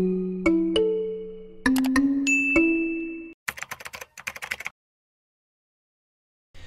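A series of bright notification bell dings rings out, several tones stacked in quick succession over about three seconds, followed by a short burst of jingling chimes, then silence.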